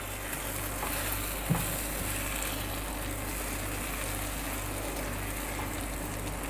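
A dhaba-style masala omelette cooks in a pan over a flame, giving a steady, soft frying sizzle with a low background hum, one small clink near the start and no speech.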